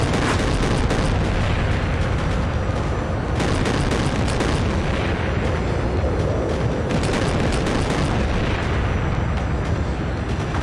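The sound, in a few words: meteor weapon explosions in video game Mecha Knights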